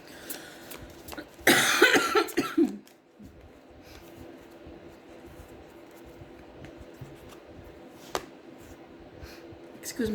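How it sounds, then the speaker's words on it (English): One person breaks into a short, loud burst of coughing, followed by quieter rustles and faint background noise. "Excuse me for coughing."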